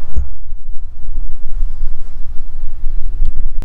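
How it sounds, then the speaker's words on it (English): Low rumbling wind buffeting the microphone in uneven gusts on a farm, close and loud, with no talking. "it's way too windy."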